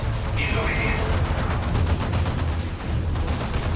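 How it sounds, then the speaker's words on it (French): Sustained distant gunfire in the real-time strategy game Dawn of War 2 Chaos Rising, a dense rattle of overlapping shots under a continuous battle din with music. "Nous sommes cloués par des tirs."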